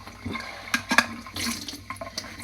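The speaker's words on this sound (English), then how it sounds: "Then I'm just going to fill it with water just to wash off any residue that's on it." Tap water runs into a tin that held canned lentils, rinsing it in short, close splashing bursts that come and go unevenly over a couple of seconds.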